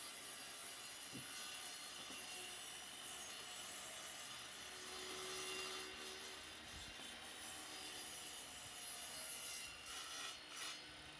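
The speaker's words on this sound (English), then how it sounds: "I took them to the table saw and cut off the very edge of the boards" Table saw trimming the very edges of reclaimed pallet wood boards, a steady continuous whir and rasp of the blade that stays at an even level throughout with no talking.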